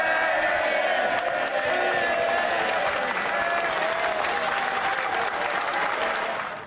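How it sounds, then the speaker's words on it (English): MPs on their feet in the House of Commons chamber, cheering and applauding loudly, a sustained roar of clapping mixed with shouts and whoops that holds steady and tapers slightly at the end. "MPs were on their feet, cheering in the chamber"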